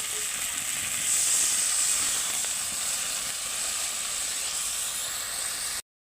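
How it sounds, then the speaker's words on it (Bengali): Tiger prawns hit hot spice paste in a pan, giving a continuous, fairly loud sizzle and hiss that holds steady for about six seconds before cutting off abruptly. "এবারে আমি চিংড়ি মাছগুলো দিয়ে দিচ্ছি।"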